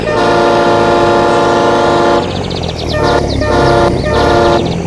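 A train rumbles past steadily and loud, then sounds its horn in several short repeated blasts over the continuing rail noise, with no talk.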